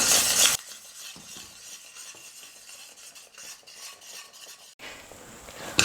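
A thick sweet mixture is stirred continuously in a pan with a utensil, giving soft scraping and clinking noises through most of the clip. Brief louder sizzling bursts come at the start and the end, and no one speaks.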